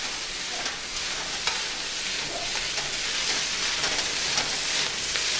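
Fried rice with oyster sauce gets stirred steadily in a hot pan, a loud continuous sizzle broken by scraping strokes and light clinks throughout, with no voices.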